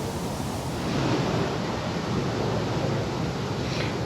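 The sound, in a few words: strong wind blowing outdoors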